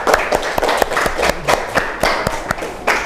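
Classroom of students clapping after a group presentation, a burst of sharp, irregular hand claps close by, fading and returning in short spurts.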